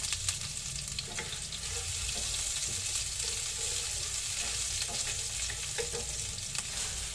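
Onions sautéing in a pan while cooking jackfruit in coconut milk, a steady broadband sizzle and crackle running continuously throughout, close and fairly loud, with faint stirring scrapes and no voices.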